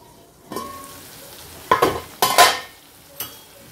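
Raw mango pieces cook in oil in a covered pan, a soft steady sizzle underneath with a few brief clinks and scrapes of a spoon or lid against the pan.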